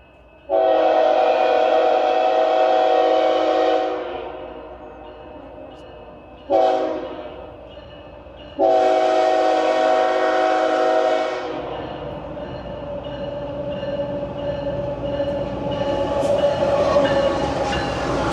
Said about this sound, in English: we're in luck, the train's coming